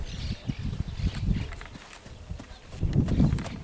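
Hooves of a young Pampa horse with heavy-breed crossing clip-clopping, a loose uneven series of close thuds and knocks that fade briefly midway and return stronger, with no talk.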